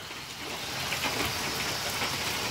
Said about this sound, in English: Oh my gosh, it just now got sunny. And there's still more hail.